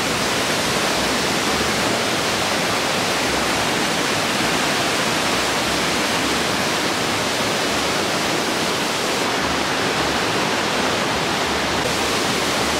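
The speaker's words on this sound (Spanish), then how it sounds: "Y por fin llegamos a la cascada." A waterfall roars steadily, a loud, dense, unbroken rush of falling water that fills the whole scene with no voices.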